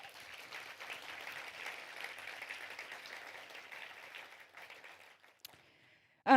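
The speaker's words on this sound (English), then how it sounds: "So, applause to you." Applause at a women-in-tech awards ceremony, a steady wash of clapping from the audience that carries on for several seconds and fades near the end before a brief sharp noise.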